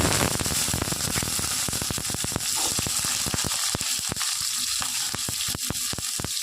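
Urad dal and chana dal frying in hot oil alongside mustard seeds, a loud dense crackling sizzle with rapid sharp pops spattering throughout, close up and with no speech.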